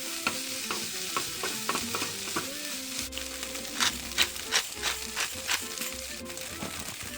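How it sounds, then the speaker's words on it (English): Vegetables, garlic and scrambled tofu stirred in a pan, with a steady sizzle and repeated scraping strokes of the utensil, close and fairly even in rhythm. "I will mix this whole thing together"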